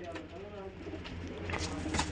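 A female pigeon coos softly among a loose flock of racing pigeons, low murmuring calls set against busy outdoor background noise and faint handling sounds.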